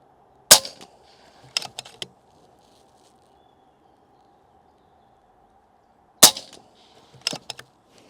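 Two sharp, snappy shots from an FX Panthera MkII PCP air rifle about six seconds apart, each followed by a few smaller clicks and clatters, against a faint steady hum.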